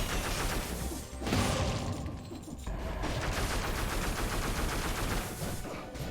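An AK rifle fires in rapid sustained bursts in the video game Dead Cells, a dense, loud automatic rattle that fills the clip with only brief breaks between volleys.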